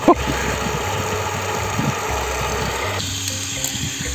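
Muddy water gushes and splashes steadily from a pipe as it is pumped from a newly dug well, while a pump motor hums underneath, continuous and close.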